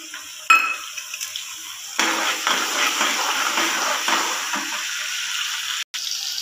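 Tomatoes frying with onion and garlic in a pan for a Rajasthani parwal curry, a steady loud sizzle with stirring scrapes and no talk.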